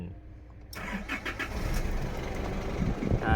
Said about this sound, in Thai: มา สตาร์ท เครื่องยนต์เลยดีกว่า